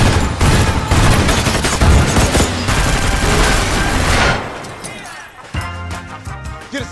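Gunfire and bullet impacts in a film action scene come as loud, dense, rapid bursts for about four seconds. The din then drops to quieter sounds with voices mixed in.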